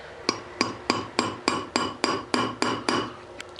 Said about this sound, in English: Now I'm just going to peen this back over.